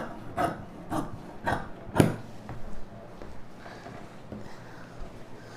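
Scissors cut through chudidhar lining fabric in a series of crisp, close snips, about four in the first two seconds, then fade into quieter rustling and scraping, all fairly soft.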